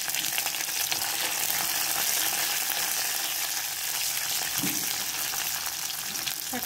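Garlic fries in hot oil in a home kitchen pan, a dense, even sizzle heard up close with a brief stirring scrape partway through.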